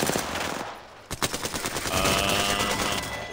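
Automatic gunfire from the Apex Legends video game, rapid bursts rattling close and loud, briefly pausing before resuming with dense repeated shots and overlapping game effects.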